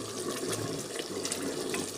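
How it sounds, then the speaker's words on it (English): Gravy boils hard in a pressure cooker, a close, continuous rushing bubble and watery hiss with faint popping, fairly quiet and with no voices. "I don't think I'm supposed to make gravy on such an aggressive boil"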